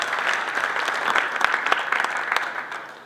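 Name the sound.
audience applause for conference panelists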